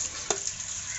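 A single scrape of stirring in a frying pan during fish cooking, one short clack over a steady sizzle, near and fairly quiet with no talk.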